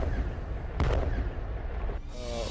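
An artillery howitzer fires shells in a war zone, with a sharp blast and a rumbling echo rolling across open ground, followed by a second, fainter report.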